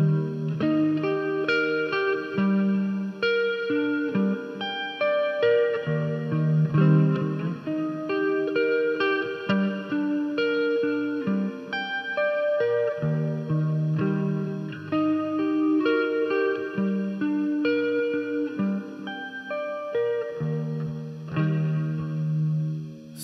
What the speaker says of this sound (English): I'm using the great patch from Boss to give that kind of reverb,